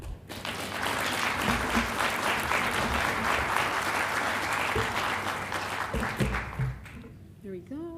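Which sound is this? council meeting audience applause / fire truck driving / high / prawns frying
council meeting audience applause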